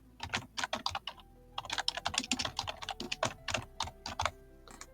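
Rapid bursts of keystrokes on a computer keyboard while a workflow node is renamed, crisp close clicks in uneven clusters with brief pauses, no voices.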